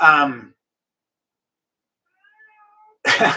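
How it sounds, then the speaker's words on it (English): A cat outside a door gives a short, harmonic meow at the start, then near silence with a faint high trill before a voice-like noisy burst at the end. "she's got to stand outside the door and meow the whole time"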